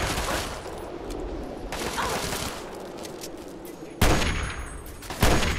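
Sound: gunfire in the video game Fallout 3

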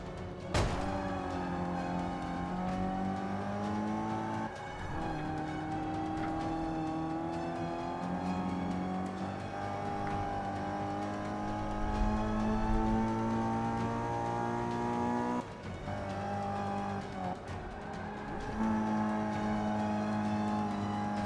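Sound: Mazda car engine racing a lap in video game Forza 5

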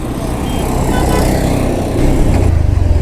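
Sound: motorcycle engine running

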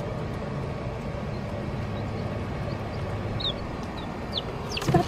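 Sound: chickens clucking

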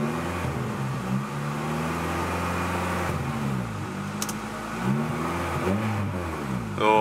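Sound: car engine revving

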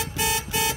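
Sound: motorcycle horn

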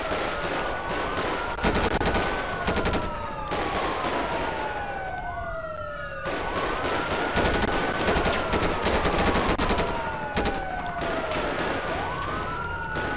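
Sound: gunfire in the video game GTA 5 FiveM roleplay

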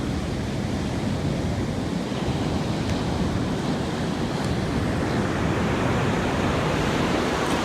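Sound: ocean waves breaking on beach

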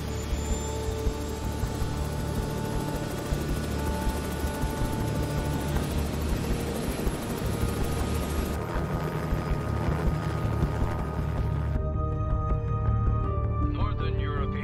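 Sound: aircraft taking off

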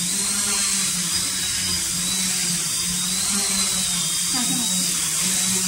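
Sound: RadioLink F450 quadcopter motors spinning

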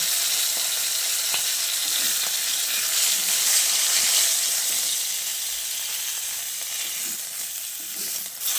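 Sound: rohu fish frying in oil

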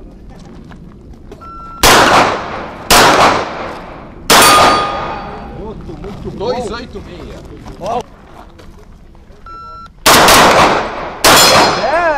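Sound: gunshots hitting targets in a shooting competition

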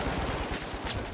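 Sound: gunfire in video game The Finals

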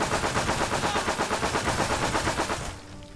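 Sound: machine gun firing in a video game

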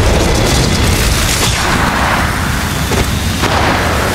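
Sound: thermite grenade exploding in video game Apex Legends Mobile

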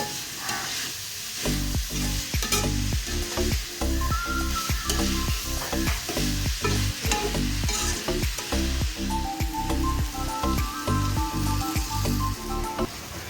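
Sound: vegetables sautéing in a heavy pan

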